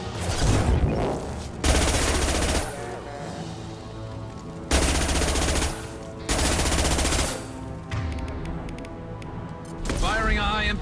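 Loud bursts of automatic gunfire in Mass Effect 2, long sustained volleys that start and stop several times with short pauses between them, under steady battle noise and a talking voice.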